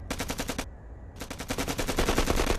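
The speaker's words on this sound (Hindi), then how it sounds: "ये तो फायरिंग बहुत नजदीक से हो रही है। 100-200 मीटर के आसपास से ही फायरिंग हो रही है।" Close-range automatic gunfire in a 2020 Hindi war film, roughly 100–200 metres away: a loud, rapid machine-gun burst, a brief pause, then a longer continuous volley of sharp, evenly spaced shots.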